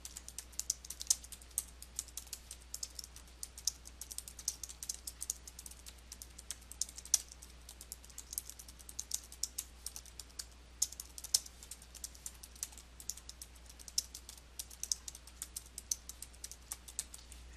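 Rapid keystrokes on a computer keyboard while typing paragraph text into Photoshop Elements 2022, a steady stream of close, crisp clicks with brief pauses, quiet overall over a low constant hum, no talking.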